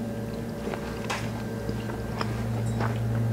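Crunching bites into crispy air fryer chicken wings coated with baking powder, several close chewing crunches scattered over a steady low hum.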